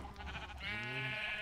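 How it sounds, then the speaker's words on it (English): A single wavering sheep bleat from Minecraft, short and fairly quiet, standing alone without talk. "That's enough sheep."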